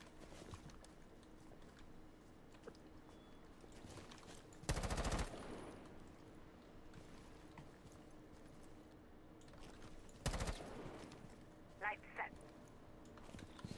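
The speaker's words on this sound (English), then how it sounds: "I'm shooting at nothing" Gunfire in Rainbow Six Siege: two short, loud automatic bursts separated by several seconds, with quieter clicks later, over a low background hum while a voice talks.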